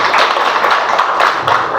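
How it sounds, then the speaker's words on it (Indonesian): Dense, steady applause from the audience at a tourism focus group discussion, many hands clapping together close by for a brief welcome with no pause. "Tepuk tangan untuk Pak Iqbal."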